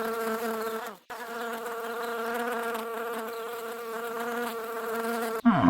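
A bee buzzes loudly and close for several seconds in a steady droning hum, with a brief cut near the start and a sudden shift in pitch at the very end, with no talking.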